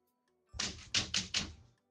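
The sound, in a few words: typing on a keyboard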